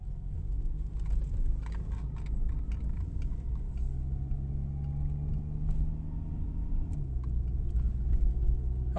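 An automatic-transmission VW Golf or Jetta Mk2 on a test drive produces a steady, low interior engine and road rumble, with a faint rise in engine tone partway through and no talking.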